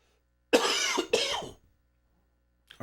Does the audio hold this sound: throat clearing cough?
yes